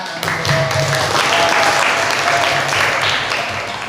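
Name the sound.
class applause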